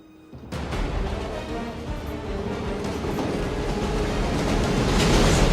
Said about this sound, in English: You got the money train coming your way.